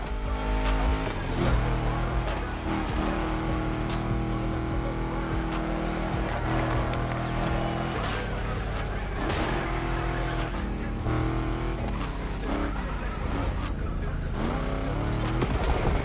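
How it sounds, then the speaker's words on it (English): Car engines roaring in The Crew Motor Fest racing game set in Oahu, Hawaii, continuous loud revving and tire squeal throughout, with no voices. "Let's hear these engines."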